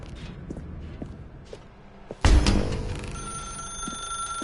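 A telephone ringing in The Stanley Parable video game: a sudden loud electronic ring bursts in after faint footstep-like taps, then settles into a sustained, steady bell tone that continues to the end.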